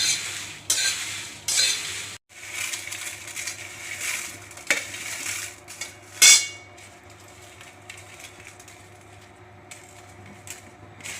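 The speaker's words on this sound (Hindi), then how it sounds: "सभी लो फ्लेम पे भून रहा है हर चीज़।" Spices for a mango pickle roasting on a low flame while being stirred: close, clattering scrapes of a spoon against the pan, with a few louder knocks over a soft, steady background hiss.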